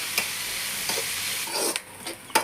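Pirandai (adamant creeper) being sautéed in a pan for pickle, giving a soft steady sizzle with a few scraping stirs of a spatula and a louder clack near the end, all close and without talk.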